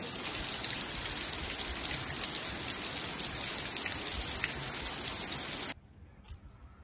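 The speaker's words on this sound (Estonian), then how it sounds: "Väljas hakkas kõvasti vihma sadama." Heavy rain coming down outdoors in Ida-Virumaa, Estonia, a thick continuous hiss of drops on surfaces, loud and close, cutting off abruptly near the end into near silence.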